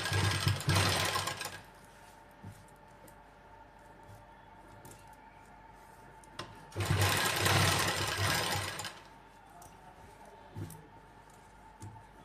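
Sewing machine stitching lace onto gathered fabric, running in two loud bursts of rapid whirring with quieter pauses between them.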